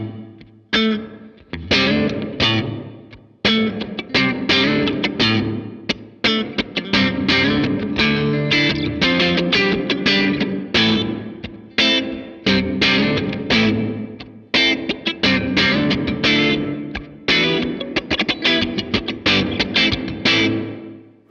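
Distorted electric guitar played through a noise gate, each chord or note chopped off abruptly into silence, giving tight staccato stabs in an uneven rhythm, loud and close with no talking.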